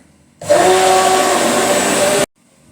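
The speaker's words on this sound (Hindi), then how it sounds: "बाकी आज थोड़ी सी थी इसलिए मैंने ब्लेंडर चला दिया।" A kitchen blender churns cream into butter, whirring loudly and steadily for about two seconds, then cutting off abruptly.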